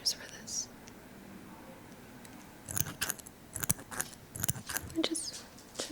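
Small herb shears trim plant stems in a quiet ASMR setting: a run of close, crisp snips and rustles, clustered between faint breathy sounds, with no talking over them.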